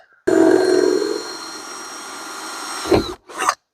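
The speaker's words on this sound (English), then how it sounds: "I'm going to go with here, where you can drill a hole" A power drill drilling a hole in a car whirs loudly at high speed for about three seconds, winds down, then gives one more short burst.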